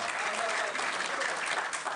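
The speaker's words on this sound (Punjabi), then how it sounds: "ਤਾਲੀਆਂ" Audience applause at an international Punjabi conference, a dense, steady wash of many hands clapping close and loud for the whole moment.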